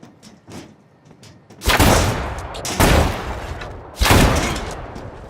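Gunshots in the multiplayer survival video game The Culling, three loud, close, sharp bangs spaced about a second apart, standing out from quieter background noise.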